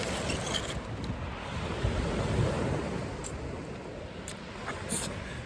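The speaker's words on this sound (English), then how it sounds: "Wind's dropped off a bit now, so hopefully it's not too windy on the camera." Wind and surf at a pebble beach at Budleigh Salterton during a fishing session, a steady broadband wash of breaking waves with gusty wind buffeting the microphone, continuous and fairly close, with no talking.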